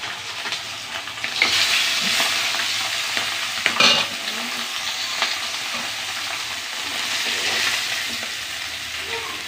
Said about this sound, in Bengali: মাছ ভাজার কাছে যাওয়া যাচ্ছে না, এত জোরে ছিটতেছে